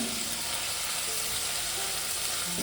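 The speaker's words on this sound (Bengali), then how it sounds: "আস্তে আস্তে মিনিট 2-3 ধরে আমি মশলাটা কষিয়ে নেব।" Masala spice paste with ginger-garlic paste frying in a pan for a potato and mushroom curry gives a steady, dense sizzle that stays close and even throughout, with no talking.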